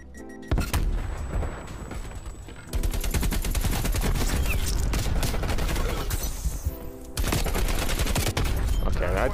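Dense automatic rifle fire from an AK-47 in the Cold War first-person shooter during a hardpoint match, bursts sounding close and loud with brief gaps, continuing nearly the whole time.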